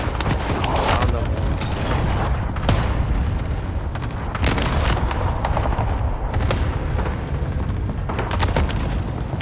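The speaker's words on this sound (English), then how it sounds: "Bringing down an airstrike." Dense, rumbling booms and blasts of an airstrike in a video game battle, heavy low impacts rolling continuously with scattered gunfire, loud and close, with a voice briefly talking underneath.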